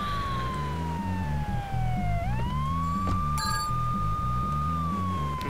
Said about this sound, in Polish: włączymy syrenę, żeby nie było tak cicho